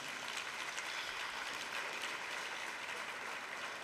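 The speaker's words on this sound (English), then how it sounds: "we want all of us to give her a huge round of applause" An audience of nurses at an oncology nurse leadership programme launch gives a round of applause, a continuous, even wash of clapping that is fairly quiet and distant.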